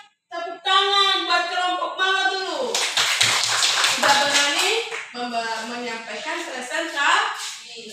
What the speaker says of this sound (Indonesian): Berikan tepuk tangan buat kelompok mawar dulu.